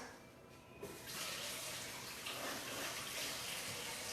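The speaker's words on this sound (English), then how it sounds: "let me wash my hands" A tap turned on about a second in, then steady running water from the faucet as hands are washed, fairly faint and alone without talk.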